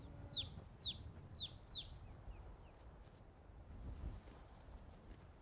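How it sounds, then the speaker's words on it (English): A chicken or chick in a modded video game gives four quick, high chirping calls in a steady rhythm over a low rumbling ambience, then falls quiet. "Like the chick I can deal with. It's a little loud, but not bad."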